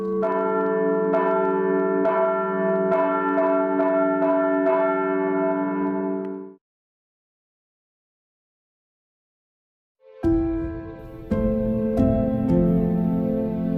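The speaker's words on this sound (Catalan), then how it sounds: "la Maneta es va convertir en la campana més gran del bisbat de Girona" A 4,800 kg church bell in the Girona diocese, one of the largest in Catalonia, rings in rich, sustained strikes with a long ringing hum, breaks off into a few seconds of silence, then peals again loudly.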